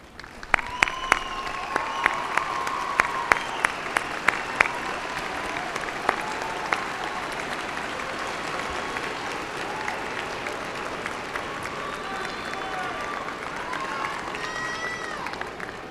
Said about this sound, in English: Please stand so we may recognize and applaud you.